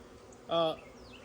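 A single short, close buzz of a honeybee at a hive rises out of a quiet background and stops after a moment.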